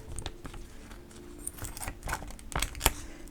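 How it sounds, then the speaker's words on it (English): Scissors snip through thin Shinhan masking film, a series of quiet, irregular cuts and crinkles close to the microphone with faint rustling between them. "I'm just going to try cutting it with some scissors."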